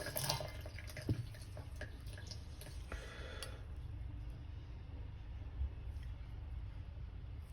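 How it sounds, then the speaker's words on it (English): Water runs steadily from a tap over a straight razor and a sharpening stone as both are rinsed, a soft continuous splashing with a few small clinks and drips near the start. "I'm gonna rinse the razor clean. I'm gonna rinse the stone clean."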